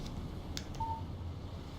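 A short, faint single electronic beep from a mobile phone signalling an incoming text message in the Alan Wake video game, heard over a low background hum.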